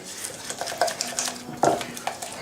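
A spoon scrapes and clinks against a bowl as sugar is stirred into a thick paste for pastry cream, a quick, irregular tapping and scraping that stays fairly soft, with no one speaking.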